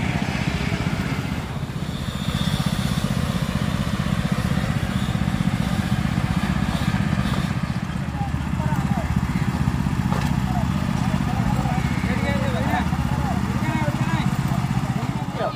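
Two Honda engines and a Challenger 2 farm machine run on a road during operator training, making a steady, loud mechanical drone with clatter throughout while people talk over it.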